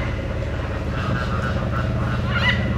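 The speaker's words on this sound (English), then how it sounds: "Here, look, here's some geese." Geese honking at a zoo, with loud flamingos nearby, a steady clamor of overlapping calls heard from close by, a brief sharper cry near the end.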